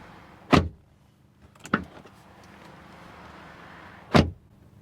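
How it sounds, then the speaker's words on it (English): Three solid thuds as the doors of a 2025 Mercedes GLC SUV are shut from inside, spaced apart, near and loud against a quiet cabin. "And let's close the doors."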